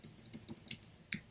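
Quick, light keystrokes on a computer keyboard, about eight soft clicks in an uneven typing rhythm, close and quiet with no talking.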